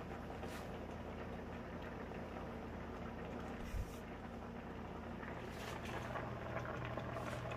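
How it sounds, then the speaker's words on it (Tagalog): Pot of blue crab and shrimp cooking in coconut milk, boiling steadily with a continuous bubbling hiss, close and moderately loud, with a brief knock partway through. "Kumukulo na guys."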